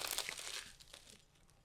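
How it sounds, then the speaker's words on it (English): Homemade pizza crunches in a few quick, close crisp bites near the microphone, loudest at the start and fading within a second or two. "Not trying to crunch in the mic"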